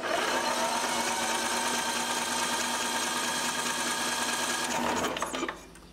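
A Briggs and Stratton 17.5 HP small engine cranking over with a flooded, petrol-soaked cylinder, producing a loud, steady mechanical whir that runs for several seconds before cutting off abruptly.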